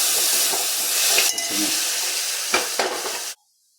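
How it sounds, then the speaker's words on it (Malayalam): Cooked chickpeas being stir-fried in a pan, giving a loud, continuous sizzle and hiss with a few scraping stirs, then cutting off abruptly near the end. "വേവിച്ച് വെച്ച കടല ചീഞ്ചട്ടിയിലേക്ക് ഇട്ട് എല്ലാം കൂടി കൂട്ടി"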